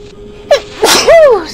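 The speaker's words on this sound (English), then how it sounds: "I'm gonna sneeze." A single sneeze from a man, a short inhaled build-up followed by a loud, close burst and a tonal exhale, heard during a blind Half-Life 1 game session.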